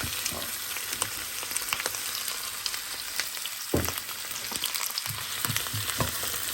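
Continuous crackling sizzle of onions and chicken frying in oil in a pot, close up, with occasional scraping knocks as it is stirred.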